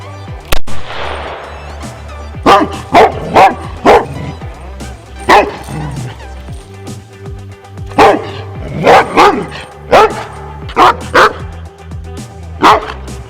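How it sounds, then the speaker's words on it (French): A Pyrenean Mountain Dog barks loudly and close by, voicing its displeasure in irregular bursts of deep, booming barks, some doubled or tripled in quick succession, with short pauses between volleys. "Sa façon d'aboyer est normale, c'est un chien, donc il exprime son mécontentement."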